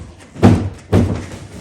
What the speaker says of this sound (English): if I take the drawer out